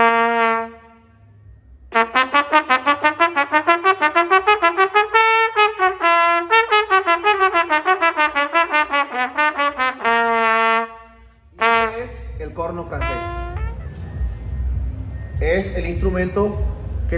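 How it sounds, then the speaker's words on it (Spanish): A trumpet plays a long run of bright, detached notes climbing and falling in quick succession, loud and close, followed by a few scattered blasts and rougher noise near the end. "la trompeta es el más agudo"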